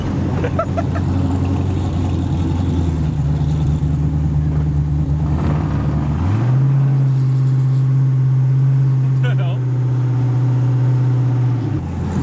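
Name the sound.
LS-swapped Ford Mustang engine running while driving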